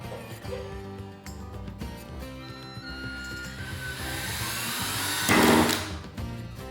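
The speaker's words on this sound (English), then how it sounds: "I'm gonna drill a hole so it's easier to get that eye bolt in" A power drill whines and rises in pitch as it bites into a rooftop, hitting a metal plate, building to a louder grinding burst near the end before easing off.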